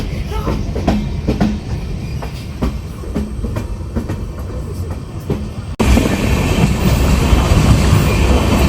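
A passenger train runs through the hills of Mizoram past Bandarkhal station, its steady rumble and clickety-clack continuous and close throughout, swelling louder and brighter in the final seconds, with no talk.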